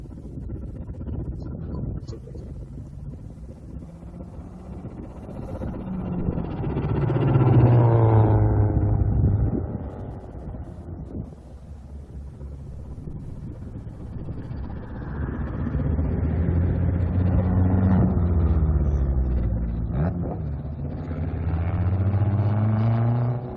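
A repaired car drives on a racetrack, its mid-pitched engine revving up and easing off in two long swells over about twenty-four seconds, with a rough clattering texture and no talk.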